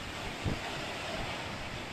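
Storm wind gusts across the Isle of Arran during Storm Dave, a dense, continuous roar buffeting the microphone, with one brief harder thump early on and no voices.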